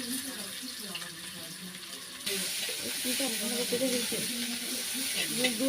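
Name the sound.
onions sizzling as they are added to hot oil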